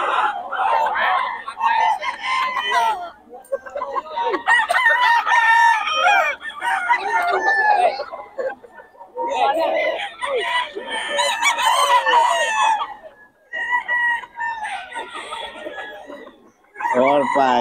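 Roosters crow and hens cluck at a chicken market in Bocaue, with bursts of loud, overlapping crowing calls separated by brief pauses and the occasional voice in the background.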